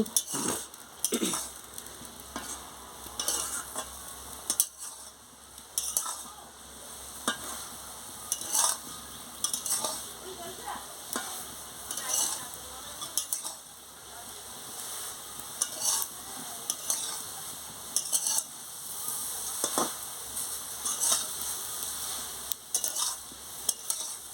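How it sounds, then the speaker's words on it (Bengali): Soybean and gram flour fritters being stirred in a curry, with repeated scraping and clinking of a utensil against the pan over a soft, steady sizzle, fairly quiet and close. "দেখুন আমি কেমন নাড়াচ্ছি নাড়াচ্ছি"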